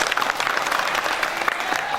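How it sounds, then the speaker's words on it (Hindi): An audience at an all-India mushaira in Patiala claps in a dense, continuous burst of applause, steady and fairly loud throughout a short stretch. "एक बार डॉक्टर साहब के लिए जरूर ताली बजाइए आप।"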